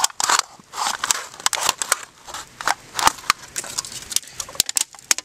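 Scissors or a blade cutting an aluminum drink can open along one side, a rapid run of sharp metallic snips and crinkly crackles, close and fairly loud, irregular in rhythm with brief pauses between cuts.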